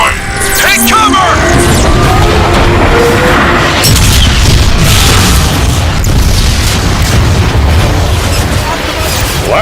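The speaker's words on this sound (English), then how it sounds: "I'd be curious as to what an artillery strike would do to that marauder" A loud, sustained barrage of booming artillery explosions in the sci-fi game Transformers: Fall of Cybertron, with broad rumbling blasts rolling continuously under voices speaking over the action.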